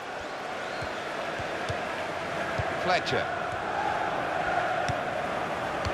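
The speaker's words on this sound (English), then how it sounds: "And the crowd really enjoying it." A stadium crowd murmurs and cheers throughout a FIFA 16 video game football match between West Brom and Man City, a steady roar sitting beneath a commentator's voice.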